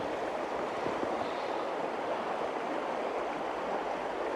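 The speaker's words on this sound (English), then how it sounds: "But here's the river." A river running near a rusty homestead in January, calmer than in recent months, makes a steady, continuous rushing wash of water. It sounds close and fairly loud and carries on unbroken with no voices.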